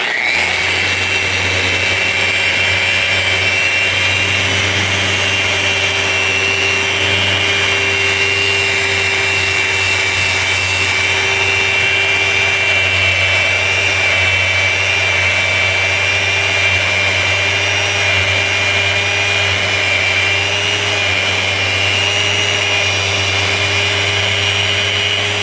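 A Festool Rotex RO 150 sander fitted with an 80 grit pad runs continuously, cleaning glue off a large panel, with a loud, steady whine and hum.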